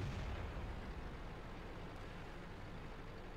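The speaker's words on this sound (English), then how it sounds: "So I pull out, shoot him." A tank cannon firing in World of Tanks, a single deep booming blast at the start that decays into a low rumbling tail, fairly faint overall with no talking.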